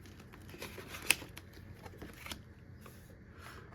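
Small paper challenge cards being shuffled and handled at close range, soft quiet rustling and flicking with one sharp snap, alone without talk.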